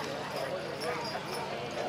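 Horses' hooves clop on the ground at an August horse-pulling contest in Maricourt, sounding as steady, dense footfalls amid loud crowd noise and voices throughout.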